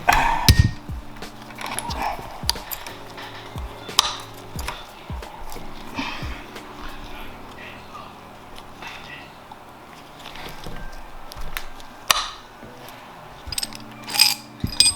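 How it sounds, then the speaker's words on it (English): A socket is tapped to knock a part out of a Jaguar XJ6 power steering rack, giving sharp metallic taps and clicks scattered over the span, with some mechanical shuffling and occasional talk. "put the socket back in, give it a tap, and it's out"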